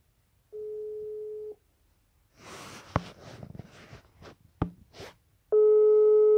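A telephone ringback tone sounds during a call: one long steady beep, a few seconds of rustling and soft snorting noises, then the tone returns loud and close.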